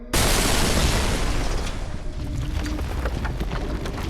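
A video game explosion: a sudden loud blast kicks off a sustained rumbling roar that slowly tapers while staying heavy and dense, with no voices.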